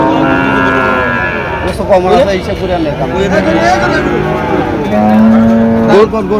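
Cows moo repeatedly, long low calls close by, amid people talking and the general hubbub of the crowded Chandimura cattle market in Comilla.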